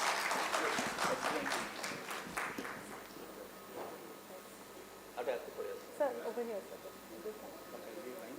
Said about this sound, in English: A big round of applause for everybody post-lunch first session.